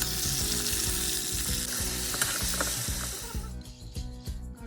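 Brinjal fries in hot oil with mustard seeds, chana dal and curry leaves for stuffed brinjal curry, a loud close crackling sizzle with rapid popping and clattering stirs that eases slightly toward the end.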